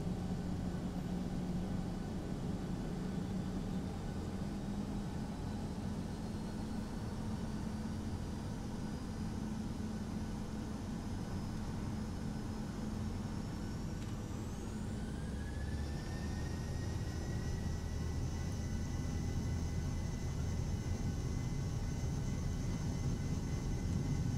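A Ryanair Boeing 737-800 at London Luton rolls for takeoff, its jet engines a loud, continuous roar heard from inside the cabin, with the whine rising in pitch as thrust builds partway through.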